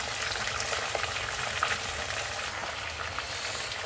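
Fish frying in a pan, a steady dense sizzle and crackle with small pops, close and continuous, no voices.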